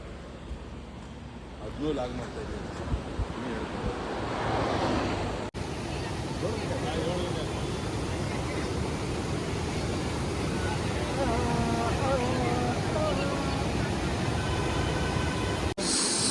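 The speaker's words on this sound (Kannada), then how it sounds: "ನೋಡಿ ಇವರು ಎಷ್ಟು ಫೋರ್ಸ್ ಆಗಿ ಬರ್ತೈತೆ ನೇತ್ರಾವತಿ" The Netravati river flows forcefully, a broad continuous rush of water mixed with wind buffeting the microphone. A person talks over it throughout.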